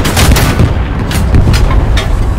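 A tank is destroyed in the World War II shooter Hell Let Loose, heard as a loud, dense roar of overlapping blasts and gunfire rumbling continuously at close range, with no talk.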